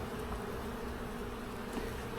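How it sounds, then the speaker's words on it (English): Honeybees swarm-hum steadily during a July hive inspection, a dense, even insect drone close by that holds without break and without talk. "A lot of bees"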